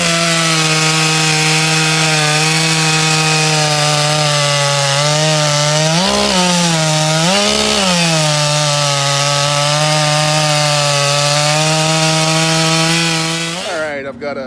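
A chainsaw cuts through a dense, dead Webster wood log, its engine holding a steady, loud, close whine that dips and labours twice midway as the bar bogs in the hard wood, then cuts off near the end.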